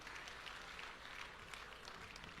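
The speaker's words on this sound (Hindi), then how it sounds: "इसी तरह से आपकी तालियां मिलती रहें।" An audience claps at a Hindi poetry gathering (kavi sammelan) at a district exhibition in Bulandshahr, a short burst of soft, distant applause with no voices.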